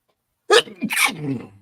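A single person sneezes sharply in a quiet room: a sudden loud burst followed by a trailing breathy release, over almost no background.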